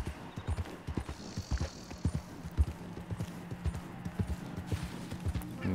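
Horse hooves clip-clopping at a steady walking rhythm in Red Dead Redemption 2, fairly close and continuous, with a faint low background hum beneath the steps.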